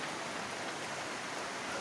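Heavy rain pouring down during a storm, a dense, even hiss of steady downpour with no talking.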